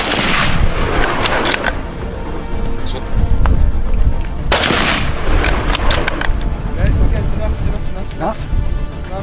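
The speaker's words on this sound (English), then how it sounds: "Shoot him." Rifle shots fired at a Cape buffalo during a dangerous-game safari hunt in Africa, with loud sharp cracks near the start and again mid-clip amid outdoor noise, while people talk excitedly over them.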